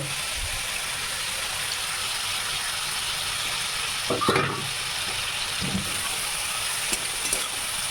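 Bitter gourd fries in hot oil with green and ripe chillies and poppy seeds, giving a steady close sizzling hiss throughout with a few brief clinks and stirring sounds.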